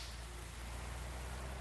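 Rain falls outdoors as a faint, even, continuous hiss with no distinct drops or voices.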